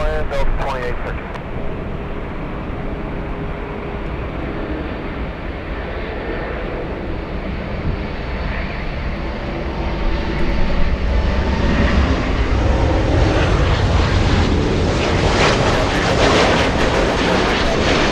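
An airliner landing on runway 24 right at LAX, a steady broad roar of jet engines that builds louder toward the end, with faint voices in the background.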